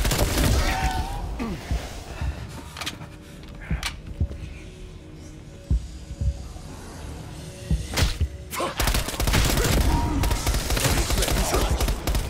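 Gunfire rings out in Call of Duty: Black Ops Cold War, with scattered sharp shots and thuds that build into a dense burst of firing near the end, loud and close over game ambience.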